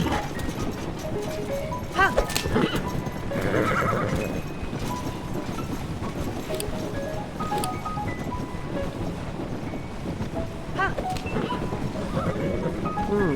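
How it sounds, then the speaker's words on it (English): A horse in the video game Zelda: Tears of the Kingdom whinnies and trots with clip-clopping hooves over a busy game soundscape, loud and close, with a few sharp effect hits. "How much weight can the horse pull?"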